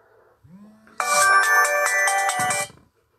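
An incoming call's telephone ringtone plays, loud and close, as a bright electronic melody lasting under two seconds after a faint tone beforehand, then cuts off into quiet; no talk.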